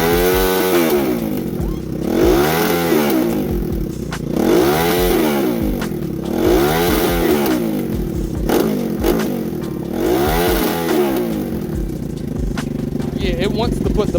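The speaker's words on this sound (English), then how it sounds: "I ain't doing nothing but giving it throttle." A Grom clone motorcycle fitted with a ZS190 two-valve engine revs up and down repeatedly under throttle, loud and close, rising and falling in a steady cycle of about five swells.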